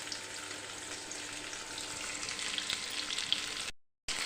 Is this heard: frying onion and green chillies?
yes